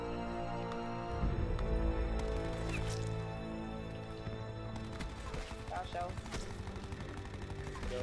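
Rapid gunfire in Call of Duty Black Ops 4, dense bursts of shots running throughout alongside game noise and a speaking voice.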